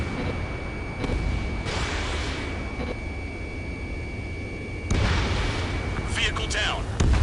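A missile launches at an enemy vehicle in a video game, a loud continuous rushing roar with abrupt surges and booming bursts, layered under radio-style voice chatter.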